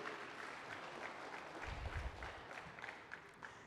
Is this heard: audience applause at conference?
yes